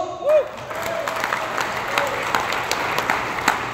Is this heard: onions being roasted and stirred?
no